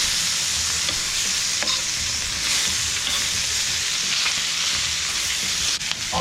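Meat and peppers for jambalaya fry in a pan over medium heat, giving a loud, continuous sizzle with occasional stirring scrapes and clicks, with no voices.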